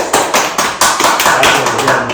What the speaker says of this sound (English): That was a round of applause.